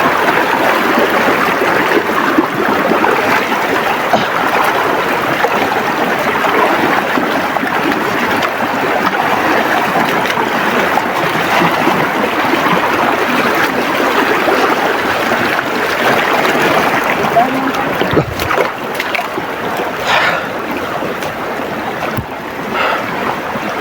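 A flowing stream rushes steadily and loudly throughout, a dense continuous wash of water with no voices and no pauses.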